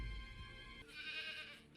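A goat gives one loud, close, drawn-out bleat that wavers and rises in pitch, heard alone with no talk.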